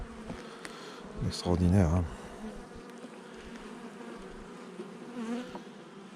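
Honeybees humming around an open hive while the brood nest is being shifted, a faint steady buzz beneath a brief burst of speech and handling noises.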